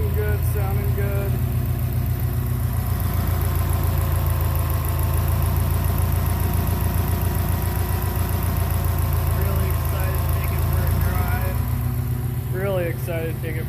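A 2004–2021 Subaru STI engine fitted with a Fluidampr harmonic damper runs steadily near 2,000 RPM, a constant low droning hum, loud and close, while a person talks over it.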